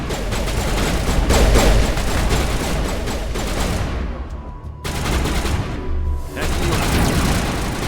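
Turrets fire in Mass Effect Legendary Edition, a dense, continuous rattle of rapid automatic gunfire with heavy booming impacts, loud and close, dropping out briefly twice before resuming.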